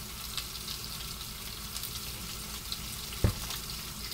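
Sliced onion fries in a pan, a soft steady sizzle with light stirring and one sharp knock near the end, no voices.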